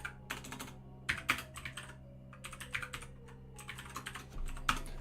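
Rapid keystrokes patter on a computer keyboard in irregular bursts with short pauses, close and fairly quiet over a low hum, with no talking.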